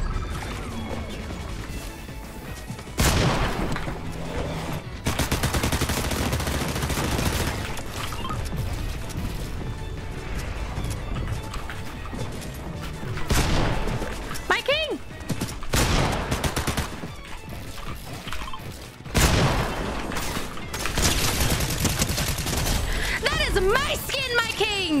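Rapid SMG bursts and heavy shotgun blasts in Fortnite Chapter 6, repeated throughout amid loud game effects, with a player talking over the shooting.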